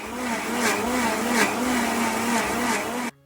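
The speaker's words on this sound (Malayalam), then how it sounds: "ഇനി മിക്സിയിലിട്ട് ഒന്ന് കുറച്ച് നേരം ഒന്ന്" A kitchen mixer grinder grinding grated coconut, a loud steady whirring drone with a faint cyclic wobble, running close for about three seconds before it cuts off abruptly.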